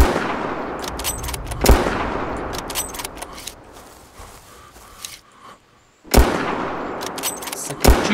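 Gunshots ring out in the Prehistoric Hunt hunting game, sharp loud cracks at irregular intervals with footsteps and movement between them, a quiet gap near the middle, then more shots.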